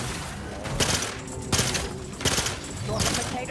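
Bursts of heavy gunfire in the video game The Outer Worlds 2, sustained volleys of loud repeated shots in several waves over a noisy battle din.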